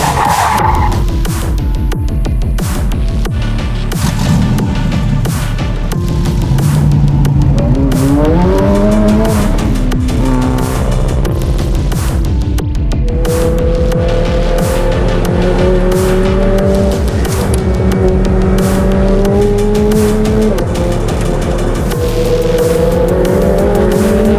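A Ferrari race car at speed on a cold, low-grip track: a loud, continuous engine roar that climbs in pitch through the gears and drops between them, with tire squeal through the corners.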